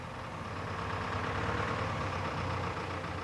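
A vehicle engine hums steadily at a fairly even level, a dense mid-to-low drone with a slight swell near the middle and no clear drop in speed.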